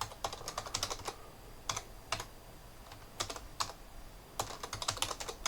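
A password is typed on a Windows 11 laptop keyboard during a Linux Mint install, heard as bursts of rapid close key clicks separated by short pauses, steady and fairly quiet, with no voices.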